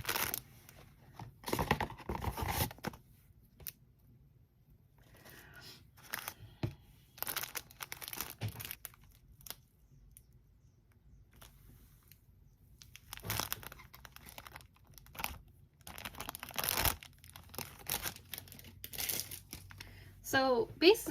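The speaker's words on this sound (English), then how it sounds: "I'm not going to be gentle, I'll just rip it open." Plastic packaging on a Dollar Tree crochet craft kit is ripped open by hand, bursts of crinkling and tearing coming in uneven clusters with quiet gaps between them.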